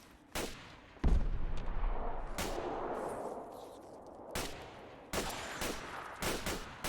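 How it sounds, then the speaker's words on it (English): Gunfire in Fallout 4: bursts of distant shots crack out in irregular volleys, some single and some in quick clusters, over a low ambient game background, with no talking. "there's gunfire coming off to our left"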